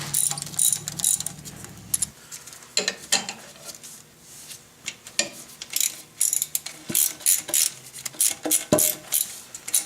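A ratchet wrench works on half-inch oil pan bolts of an IH 354 tractor, giving repeated bursts of fast clicking close by, with brief pauses and metallic clinks between strokes.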